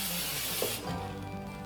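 Non-stick cooking spray hisses onto a rice cooker pan in a close, steady burst that cuts off partway through, followed by faint clatter.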